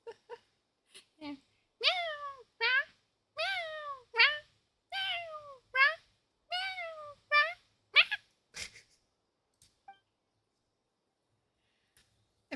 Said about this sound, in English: People hear meow noises.